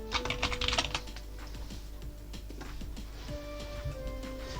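Keys clatter quickly on a computer keyboard, a brief burst of close, quiet taps over low background hum, with no voices.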